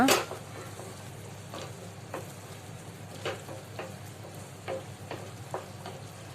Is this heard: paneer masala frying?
yes